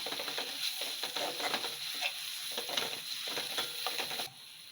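Grated Totapuri raw mango fries in a pan, a quiet, close sizzle broken by repeated scraping stirs, fading near the end.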